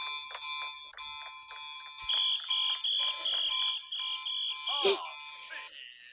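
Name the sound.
alarm going off in a video game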